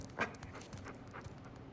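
In the video game Uncharted 4, a dog pants softly in quick short breaths, faint and close, over a low steady background rumble.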